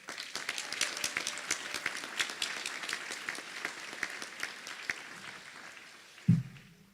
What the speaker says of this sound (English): So give them a big round of applause as well.